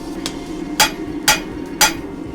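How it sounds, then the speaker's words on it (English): Three heavy hammer blows ring out at an even pace while forging an offset serrated knife blade, separating the blade from the handle portion; each strike is sharp and metallic over a steady low forge hum. "you can see just how much more powerful his hammer blows are and how much more accurate they are"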